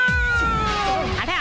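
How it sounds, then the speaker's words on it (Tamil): Cartoon cat meowing in a Tamil-dubbed Motu Patlu comedy, a single drawn-out, wavering mew that slides downward, close and clear, with a brief upturned flourish near the end. "அந்த பூனையோட சத்தம் கேக்குது"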